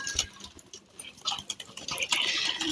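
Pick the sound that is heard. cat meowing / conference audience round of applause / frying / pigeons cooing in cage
pigeons cooing in cage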